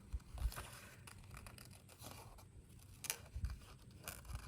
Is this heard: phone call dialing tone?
no